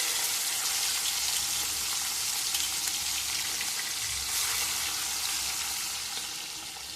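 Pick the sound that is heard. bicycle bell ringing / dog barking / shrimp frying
shrimp frying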